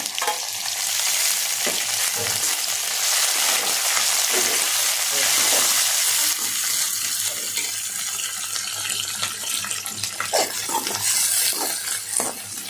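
Tomatoes fry with spices in a pan for a village-style okra curry, a steady dense sizzle running throughout with occasional stirring scrapes, close and fairly loud with no talk.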